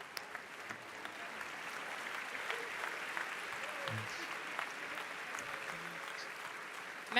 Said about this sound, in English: It's the moment to applaud you.